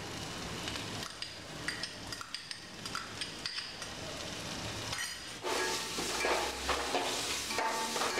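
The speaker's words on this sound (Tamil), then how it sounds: "இப்போ இதெல்லாம் ஒன்றா செய்கிற வரைக்கும் கிண்டி விடுங்க" Spoon stirring a tomato and chilli sauce with onion in a pan for chilli idli, giving irregular scraping and clinking strokes over a low sizzle that grows louder and busier toward the end.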